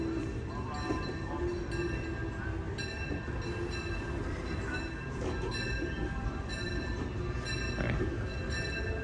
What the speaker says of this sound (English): love hearing the train.